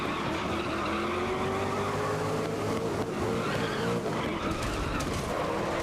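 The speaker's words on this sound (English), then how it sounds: "They are Australian V8 supercars." Australian V8 supercars race in the GRID (2019) video game, engines roaring continuously as pitches rise and fall through gear changes, with tires squealing under hard cornering, loud and close, with no talk over it.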